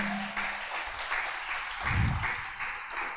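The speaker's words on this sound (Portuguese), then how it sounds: "Quem pode dar um aplauso ao Senhor?" Church congregation applauding after a sermon, a moderate, somewhat thin patter of clapping in a reverberant room, with a low thump and faint murmuring underneath.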